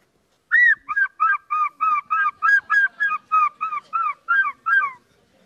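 A man imitates the call of seagulls with a string of about a dozen loud, evenly spaced honking cries, clear and close with nothing behind them.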